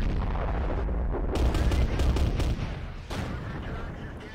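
Tank cannon fire and shell impacts in the World of Tanks video game, with an AMX-12T light tank taking a hit; heavy booming blasts and rumbling bursts sound throughout, loud and close with a dense low roar.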